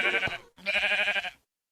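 Two sheep bleats in Minecraft, each a wavering nasal cry about half a second long, separated by a short pause and heard clearly with no other sound.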